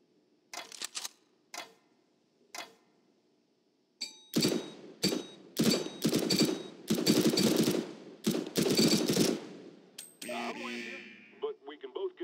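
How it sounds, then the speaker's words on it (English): Rapid gunfire in Counter-Strike: Global Offensive target training: a few isolated shots, then dense bursts of loud, close weapon fire, ending in metallic clicks and a brief trailing sound. "Aim at the target and shoot in short,"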